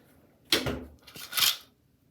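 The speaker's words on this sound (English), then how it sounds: "And then let's close the door." A bathroom door swings shut in a dim home bathroom, a sharp thud followed by a softer latching knock, close and alone with no talk.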